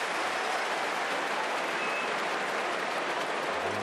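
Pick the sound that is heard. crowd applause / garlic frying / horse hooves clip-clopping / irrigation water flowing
crowd applause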